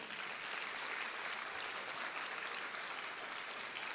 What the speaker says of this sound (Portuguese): Aplauda o nome de Jesus, aplauda.